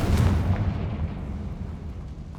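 A deep, rumbling blast from the Confringo spell in the Hogwarts Legacy video game, with a heavy boom at the start that rolls off into a decaying, crackling low roar over a couple of seconds.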